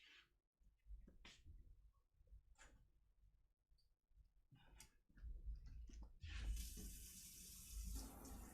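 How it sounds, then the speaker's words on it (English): Food gets a quick rinse under a kitchen tap, with quiet scattered drips and handling clicks at first, then a rushing flow of running water that grows louder toward the end, with no speech. "I'm just going to give them a quick rinse."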